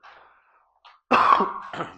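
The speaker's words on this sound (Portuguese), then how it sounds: "Realmente tá chata essa tosse." A single harsh cough bursts out after a few faint murmurs, fairly close and loud, trailing into a short throaty rasp.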